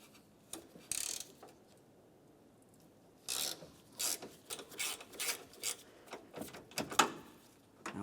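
A 5mm Allen head socket turning headlight mounting screws loose on a 2006-2011 Honda Civic: bursts of ratcheting clicks and scraping metal, separated by quiet gaps, close and moderately loud, with no talking.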